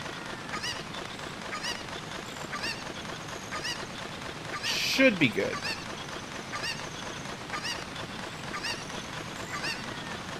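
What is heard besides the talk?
chicken clucking in Zelda Ocarina of Time video game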